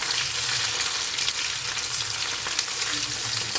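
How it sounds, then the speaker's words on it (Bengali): Chopped onion and torn green chili frying in hot oil in a home kitchen make a steady, dense sizzle that holds evenly throughout, with faint stirring underneath. "তেলের মধ্যে আমি পেঁয়াজ কুচানো দিয়ে দেবো, কাঁচা লঙ্কা ছিঁড়ে দিয়ে দেবো"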